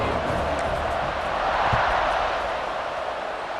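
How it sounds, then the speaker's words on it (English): Stadium crowd noise in EA Sports College Football 26 before a kickoff, a steady loud roar of many voices swelling slightly in the middle and holding throughout. "They're set to kick it off, and this crowd now ready to get behind them."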